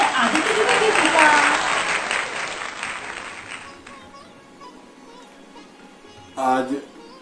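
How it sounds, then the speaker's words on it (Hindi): An audience at a Hindi poetry recital bursts into loud, dense applause welcoming poet Aditya Dwivedi, swelling early then fading over several seconds, with a voice speaking briefly near the end. "जोरदार तालियों से स्वागत करते हैं आदित्य द्विवेदी जी का"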